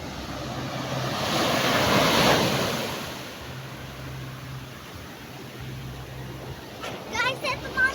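Small sea waves wash in at a seaside beach, a broad rushing surf that swells and recedes under gusty wind buffeting the microphone. Faint voices enter near the end.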